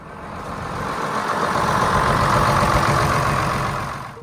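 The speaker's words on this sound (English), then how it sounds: "At the center of this legend was the IH DT436 turbo diesel, one of the most reliable engines International Harvester ever built." An International Harvester 1086 tractor with an IH DT436 turbo diesel runs steadily, a loud, continuous engine drone that swells slightly and holds throughout, with no talk.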